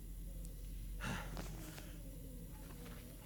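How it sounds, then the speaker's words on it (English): Heavy, labored breathing from a character in the survival video game The Long Dark, a faint gasping inhale and exhale heard low against a quiet background hum. "We can listen to Mackenzie's heavy breathing."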